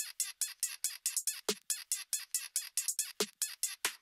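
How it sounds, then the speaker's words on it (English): Drums through a soloed parallel compressor, heavily squashed hits in a fast, regular pattern with bright, crunchy attacks and occasional deeper thumps, fairly quiet overall, with no talk. "So solo, the Parallel Compressor sounds like this with the drums."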